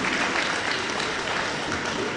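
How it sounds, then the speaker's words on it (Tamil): Audience at an astrology conference applauds in a dense, steady wash of clapping that continues throughout. "எல்லாருமே இதை கைத்தட்டலாம்."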